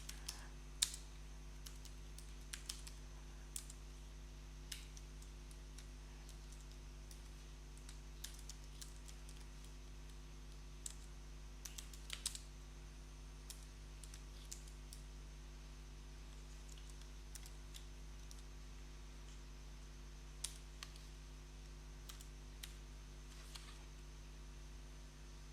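Java code being typed on a computer keyboard: quiet, scattered key clicks and short bursts of keystrokes over a low steady hum, with no talking.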